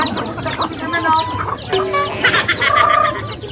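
Chickens cluck in a short run of overlapping calls, close and fairly loud, with a busy farmyard murmur beneath and no talk over them.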